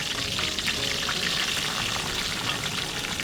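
Green chillies and whole spices frying in hot oil, making a dense, even crackling hiss that stays loud and close throughout, with no speech.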